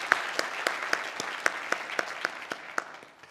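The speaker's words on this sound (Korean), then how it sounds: "우리 축복의 박수 한번 해주셨으면 감사하겠습니다" Church congregation during a women's mission society dedication service claps in unison, a steady rhythmic beat of roughly a dozen sharp, evenly spaced claps over a soft bed of scattered hand noise.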